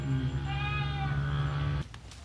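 Goats bleat on a goat farm beside the first goat shed, wavering cries that run over each other for most of the moment, close and loud, then break off to quieter background.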